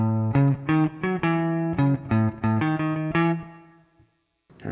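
Distorted electric guitar with chorus picks a TV theme melody in Lydian mode, a quick string of about a dozen clipped notes in a jaunty rhythm ending on a held note that fades away, alone and close.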